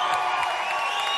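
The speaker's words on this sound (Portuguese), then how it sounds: "Aplausos para a Carol Becker." A short burst of audience applause and cheering in a TV talk show studio, steady and moderately loud throughout, with no talk over it.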